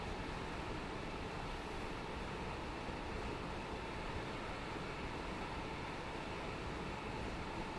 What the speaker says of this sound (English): That's a train.